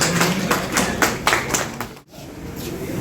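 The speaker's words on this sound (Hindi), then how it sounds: "मैं चाहूँगा जोरदार तालियों से" Audience applause at an award ceremony in Lucknow honoring the city's distinguished figures: a dense, steady patter of many hands clapping that fades out near the end, followed by a quieter room.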